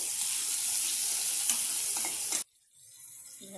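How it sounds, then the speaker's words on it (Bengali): Bay leaves, onion and tomato fry in hot oil with a loud, steady sizzle that runs for over two seconds, then cuts off abruptly into near silence with faint stirring. "রান্না শুরু করে দিয়েছি তেজপাতা, পেঁয়াজ আর টমেটো। এটাকে অল্প লাল লাল করে ভাজবো।"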